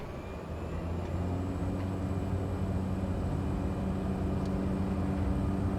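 Cessna Grand Caravan turboprop engine spooling up for takeoff in Microsoft Flight Simulator 2020, a steady loud droning hum with layered tones, no voices.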